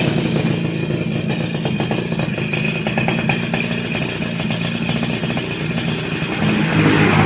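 A Suzuki RC100 motorcycle engine catches and runs at a steady, loud clattering idle close by with light revving, the rough mechanical drone filling the whole stretch with no talking.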